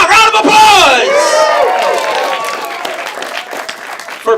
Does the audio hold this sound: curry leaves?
no